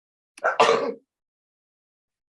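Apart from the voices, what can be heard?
sneeze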